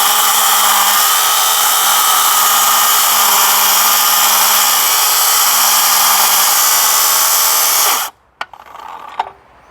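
A circular saw cuts straight through a board, a loud, steady high whine for about eight seconds before the blade stops abruptly, followed by a few faint knocks and rustles.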